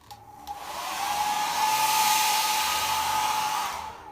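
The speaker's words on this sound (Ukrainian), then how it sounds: "Можна підсушити феном трошки." A hair dryer blows with a steady whirring hiss and a constant high whine, swelling louder in the middle before easing off.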